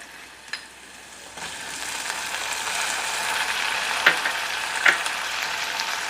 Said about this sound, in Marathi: टोमॅटो मी 1 मिनिटभर परतून घेणार आहे